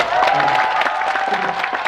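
An audience claps for a performance by four-year-old children, a short, steady burst of applause with some crowd voices mixed in.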